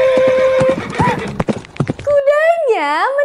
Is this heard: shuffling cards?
no